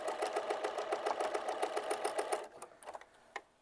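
A domestic sewing machine stitches a quilt square in a fast, steady run of needle strokes for about two and a half seconds, then slows to a few separate stitches and stops.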